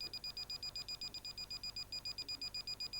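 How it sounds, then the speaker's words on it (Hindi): A portable gas detector used in confined space safety training sounds its alarm, a rapid, evenly pulsed electronic beeping repeating many times a second, faint and steady throughout without speech. "तो ये इसमें अलार्म बजना शुरू हो"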